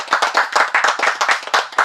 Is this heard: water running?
no